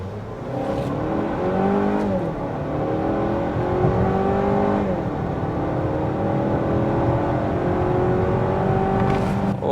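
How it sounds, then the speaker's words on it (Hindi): Engine of a 2025 Volvo XC60 mild hybrid with a 48-volt battery, heard from outside as it accelerates, a steady loud drone climbing in pitch through several gear changes with no talking. "अब आप साउंड सुनो बाहर इंजन का एक बार और"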